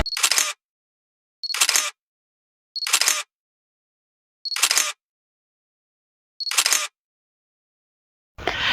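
Camera shutter firing five evenly spaced times, each a sharp close mechanical click burst separated by about a second of silence, with another beginning at the end; no talking.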